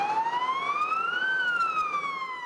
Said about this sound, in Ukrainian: Пожежна та швидка їздили містом з проблисковими маячками та вімкненими сиренами.